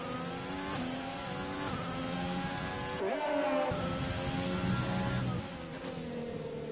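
A Ferrari race car engine in a racing game: steady, high-pitched revving with clear rising and falling tones as it shifts through gears, loud and close, with a brief dip and climb partway through.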